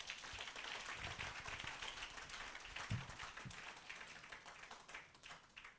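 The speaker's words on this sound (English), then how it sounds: "Please, another round of applause." Audience applause for a choir at a ceremony, a continuous patter of many hands that slowly thins and softens toward the end, fairly faint in the room.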